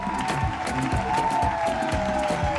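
A crowd applauds and cheers at a live broadcast event as a guest is welcomed, dense clapping under music and a faint voice.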